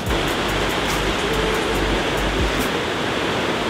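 Constant heavy rush of a large waterfall along the Great Ocean Road, a dense roaring wash of falling water close by, steady throughout with no voices.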